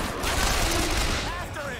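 Gunfire in Bioshock Infinite, a loud sustained burst of shots lasting under two seconds, dense and close, with a voice faintly present in the mix.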